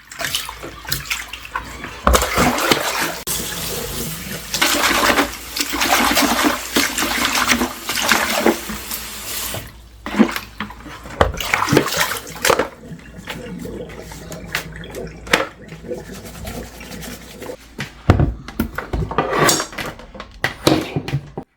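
Water runs and splashes as leafy garden vegetables are washed in an overflowing sieve, a steady close-up rushing and sloshing with occasional clatters and bumps of the sieve and dishes, with no talking.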